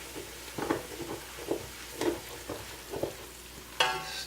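Onions frying and being stirred in a pan on a snowy day: regular scraping stir strokes about every half second over a steady low sizzle, close and moderately loud, with a brighter clatter near the end.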